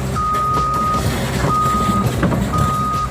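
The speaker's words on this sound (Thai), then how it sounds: "รถแมคโครแคท 320D นะครับ" A CAT 320D excavator climbs onto a trailer, its long repeated alarm beeps sounding over a steady, loud diesel engine rumble and heavy mechanical clatter.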